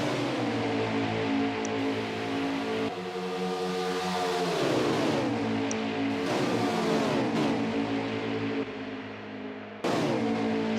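Race car engines in a sim racing game at Daytona, led by a number 8 Chevrolet Camaro, keep up a steady loud drone, with several pitch drops as cars shift or pass close by, and no talk.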